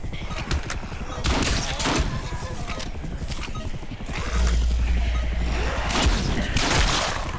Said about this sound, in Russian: Выстрели в бомбу, чтобы ее подорвать